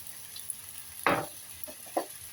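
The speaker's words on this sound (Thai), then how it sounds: "ผัดให้มันแห้งก่อน" Noodles stir-fried with soy sauce and sesame oil: a couple of brief, fairly loud spatula scrapes and tosses against the pan over a faint background hiss, with no talking.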